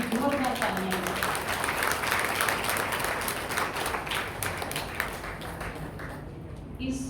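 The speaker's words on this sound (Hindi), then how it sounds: "अपने स्वागत के लिए जोरदार तालियां बजाएं" Loud, sustained audience applause fills a hall at a poetry gathering, a dense wash of clapping that holds steady throughout and eases slightly near the end.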